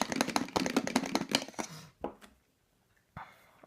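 Paintbrush swished in a water cup between colours, a burst of rapid wet knocking and rattling strokes lasting under two seconds, followed by a couple of softer splashes and a brief clatter after a pause, close and fairly quiet.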